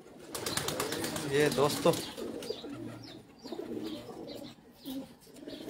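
Pigeons of the Piplawali breed coo on a Kandian rooftop, soft throaty rolling calls close by, while someone speaks over them.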